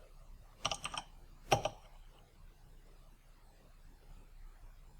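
Two short bursts of computer keyboard typing, a quick cluster of keystrokes followed by a single sharp tap, close and clear over a quiet background hum.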